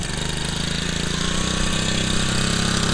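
A cheap small outboard motor bought on Amazon runs steadily after starting, a buzzy, continuous drone with a fast mechanical rattle, close and loud, with no talk.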